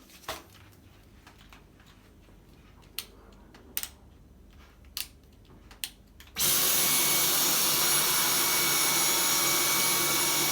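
After a few quiet clicks and taps, a Dyson V10 Total Clean cordless stick vacuum switches on at medium power and holds a steady, even whirring hum to the end, close by.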